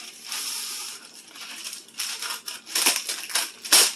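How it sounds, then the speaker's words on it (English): Parchment paper is pulled from a roll for lining a cookie sheet, giving close crinkly rustling with sharper crackles and tearing near the end. "I'm going to be doing them on my cookie sheet, so I'm going to get some parchment paper"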